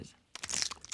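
Someone bites into an edible chocolate spider with a short, close, crisp crunch followed by a few quick crackling chews after a moment of near silence.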